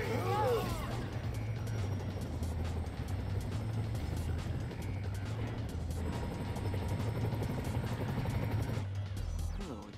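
A helicopter in Marvel's Spider-Man on PC, a steady low rotor thrum droning under city traffic noise and game sounds for the full stretch, with a voice speaking over it.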